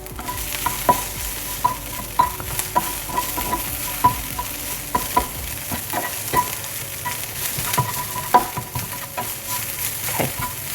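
Spice mix frying in a pan while being stirred, a steady sizzle broken by frequent rhythmic scrapes and clinks of a utensil against the pan, close and fairly loud, no speech.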